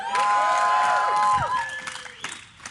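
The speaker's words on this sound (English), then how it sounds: "if you want Team Solo Mid, let me hear you cheer" A live crowd at an esports tournament cheers for Team Solo Mid, a burst of mixed shouts, whistles and squeals that swells and then tapers off.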